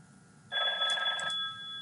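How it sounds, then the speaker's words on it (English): A telephone rings with an incoming call: a bright electronic trill starts abruptly and is loud and close, then fades to a steady lingering tone. No one speaks. "and there's a phone call."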